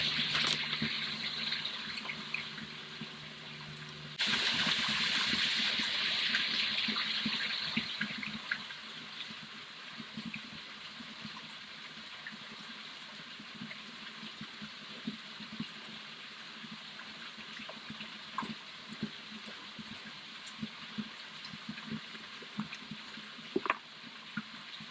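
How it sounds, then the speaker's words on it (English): Tap water runs steadily as bottles are filled from a water source for emergency drinking supply; the gush is loudest at first, then settles into a quieter, continuous trickle. "fill up all your bottles while you're here, as many of the vessels as you can"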